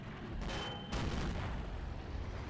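A tank cannon shot in World of Tanks landing a hit on a T-34: one sharp blast with a brief metallic ring, followed by a low rumbling tail that stays fairly loud to the end.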